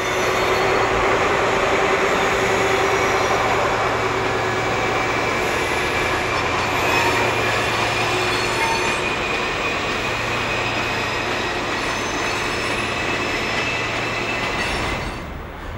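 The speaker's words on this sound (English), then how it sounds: "In the meantime, the well-respected HSTs are also used on these services." A British Rail HST diesel train rumbles past close by, a loud sustained roar of engine and wheels on track with a faint high whine, fading slightly at the very end.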